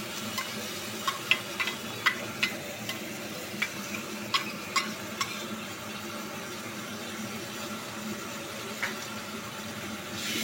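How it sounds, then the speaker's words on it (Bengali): Garlic paste sizzles steadily in hot oil with tempering spices for bhindi masala, close to the microphone. Sharp, irregular scrapes and clicks of a stirring spoon sound through the first half. "ফোড়নটা নাড়াচাড়া করে নিয়ে এবার ওই তেলের মধ্যে দিয়ে দেব রসুন বাটাটা।"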